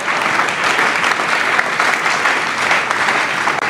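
A church congregation applauding during a sermon, with loud, dense, steady clapping that fills the whole stretch without a break.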